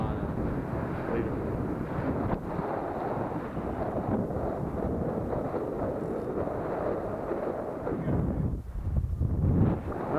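Wind buffets a camera microphone on a fishing pier at Sandbridge, Virginia Beach, producing a steady, loud low rumble throughout with a brief dip near the end and no clear talking.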